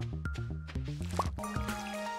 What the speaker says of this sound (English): Watering my plants.